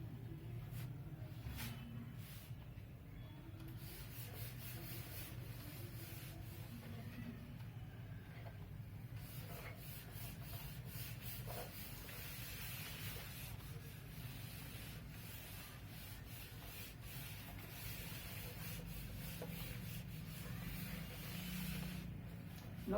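Writing is rubbed off a classroom board in a steady, soft scrubbing that continues for over twenty seconds, close by and without speech.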